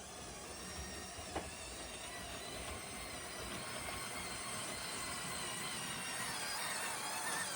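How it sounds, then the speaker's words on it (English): A LEGO toy train rolls through a tunnel in a home layout room, with a steady, faint rumble and light wheel rattle that builds gradually toward the end, plus one brief squeak near the start. "And now the train is going to be coming through the tunnel momentarily, so let's just wait it out."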